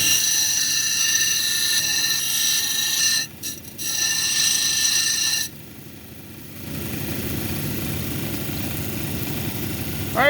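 A lapidary grinder runs with a steady whine and hum as a stromatolite cabochon is ground on an 80 grit wheel, with brief breaks in contact, then a lower, rougher grinding tone, close and steady.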